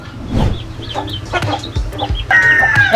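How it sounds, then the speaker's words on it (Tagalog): Young pet chicks, Brahma among them, cluck and peep up close after being let out to feed, with scattered soft calls and a louder, steadier run of chirping toward the end. "Pinakawalan ko na muna yung mga alaga kong sisiw."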